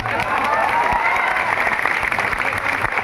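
Steady audience applause fills a gathering at a coaching academy, a continuous even wash of many hands clapping with a faint voice underneath.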